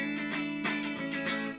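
A Fender Stratocaster Vintera 60s with the spank switch on, blending neck and bridge pickups, plays a brief run of clean, bright picked notes with rich ringing harmonics and distinct attacks.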